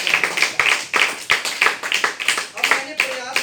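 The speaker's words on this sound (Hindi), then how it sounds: "एक बार तालियां ठोक दो जिनकी।" An audience at a gathering claps in a brief burst of quick, fairly close hand claps, loud and uneven, with voices mixed in.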